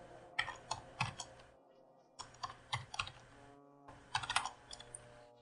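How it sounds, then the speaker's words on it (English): Fast typing on a computer keyboard comes in three bursts of rapid, close clicks and clacks separated by short pauses, with no voices. "I'm typing like hell again today."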